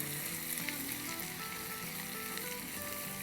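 Green chillies sizzle steadily in hot oil in a pan as a tempering for raita, a dense, even frying hiss with faint stirring that continues throughout, close and without any voices.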